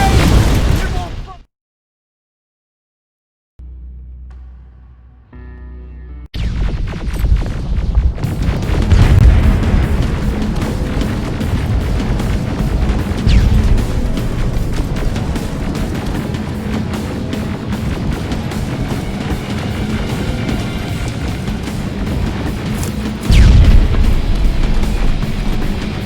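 Rocket explosions and gunfire in the Terminator Resistance shooter game, loud booming blasts after a brief silent gap, continuing as a dense, noisy battle with a heavy burst near the end.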